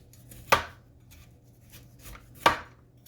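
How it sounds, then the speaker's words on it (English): A knife slices chunks off a scrubbed horseradish root, giving two distinct, solid chopping thuds about two seconds apart, close up, with only faint handling noise between them. "I usually just cut that with a knife, and I just slice off the larger chunks."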